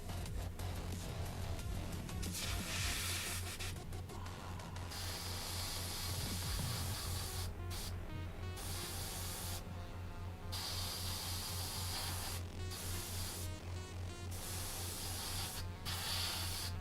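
Aerosol spray painting 1/35 scale model rocket pods olive green: bursts of close, loud hissing spray start and stop repeatedly in short pulses over a constant low background hum.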